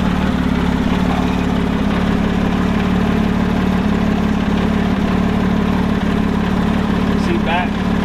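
A Porsche GT3 engine runs with a loud, continuous low rumble and no breaks, while a person talks over it.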